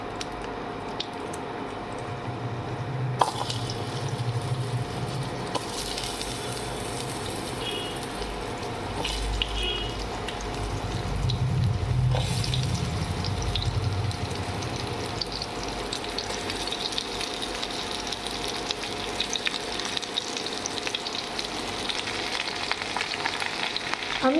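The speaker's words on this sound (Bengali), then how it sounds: "আমি বেগুন আর কড়াইশুঁটিটা দিয়ে দিই" Eggplant and green peas fry in a pan of tempered spices, giving a steady low sizzle and bubbling that lasts the whole stretch, with a few soft clinks and stirring sounds.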